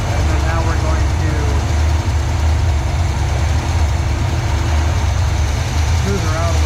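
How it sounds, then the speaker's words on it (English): A 1986 Trans Am V8 engine idles steadily after a fast idle adjustment, a loud continuous low rumble at close range with no pauses, suggesting it is running under strain from fuel starvation issues. "we adjusted our fast idle right down here a little bit"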